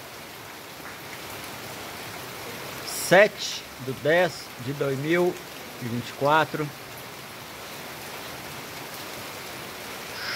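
Steady rain in Abaeté, São João neighborhood, after 191 days without rain, a soft continuous hiss of drops falling throughout, with a voice speaking briefly over it in the middle.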